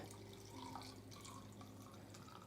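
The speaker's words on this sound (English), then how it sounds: "I'm just gonna take some water, fill up the container" Filtered water runs into a container in a soft, steady trickle with light dripping, faint and close, and no voices.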